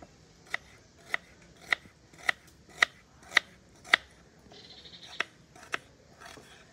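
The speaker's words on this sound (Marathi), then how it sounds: "आमच्याकडे उपलब्ध नसल्यामुळे आम्हाला हाच कांदा तळून घ्यायचा आहे, त्याच्यामुळे कांदा आम्ही लांब लांब कापून घेतो।" An onion sliced lengthwise into long strips, sharp evenly spaced knife cuts against a board, about ten crisp clicks in steady rhythm with a brief shuffle midway, close and clear, no talking.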